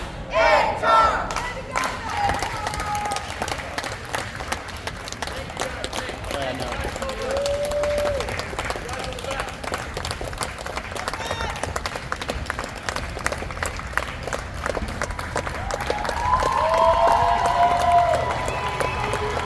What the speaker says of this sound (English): And a bigger applause now for the Linoma players who are leaving this game champions of the Gateway Conference.